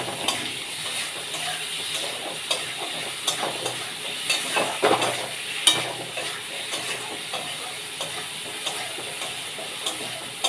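Steady sizzling of potatoes frying in oil with a ground ginger, dried chilli and cumin paste, with repeated scraping and stirring clicks from a utensil against the pan, no voices.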